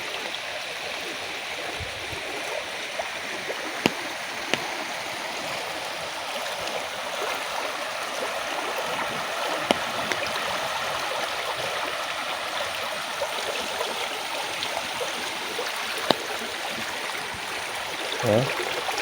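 Continuous rushing floodwater flowing over a bridge, a broad steady roar of flowing current, with occasional faint clicks and no voices.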